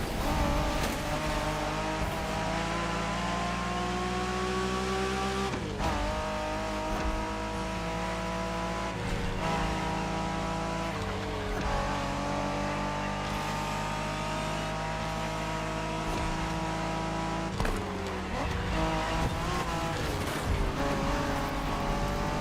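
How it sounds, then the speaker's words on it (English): A 1990s Honda NSX sports car drives continuously in Forza Horizon 6, its engine droning loud and steady with repeated shifts and revs, plus occasional tire squeal. "Are you familiar with the Honda you're driving?"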